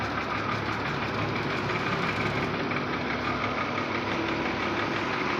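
A vehicle's engine idles steadily while stopped on a road near Kargil, a constant mid-pitched hum with slight knocking vibration, moderately quiet and without talk.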